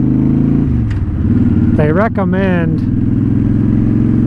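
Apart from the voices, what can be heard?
Honda Shadow motorcycle revving with Cobra Streetrod exhaust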